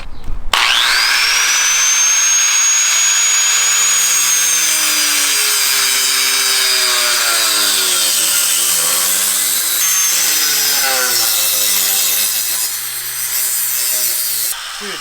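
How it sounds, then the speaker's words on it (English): A power saw cuts into a brand new exhaust pipe, a loud continuous metallic whine and grinding rasp close by, its pitch wavering and dipping as the blade bites, running for most of a quarter-minute. "Buy the brand new exhaust, start cutting it."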